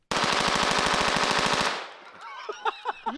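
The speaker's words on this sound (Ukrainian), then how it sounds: "тепер у мене кулемет" Rapid burst of machine gun fire in a video game, loud and close, a dense stream of shots lasting over a second, then scattered echoing clanks and whistling tones as it stops.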